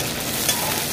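Onions frying in hot oil in a home kitchen, a dense, steady sizzle with a faint stirring scrape, close and continuous, no voices.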